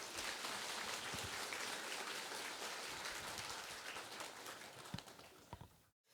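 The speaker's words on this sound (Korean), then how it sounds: "큰 박수로 목사님 앞으로 모시도록 하겠습니다" A church audience claps warmly to welcome a pastor onstage, a dense steady patter of many hands that holds strong, then thins and fades to silence near the end.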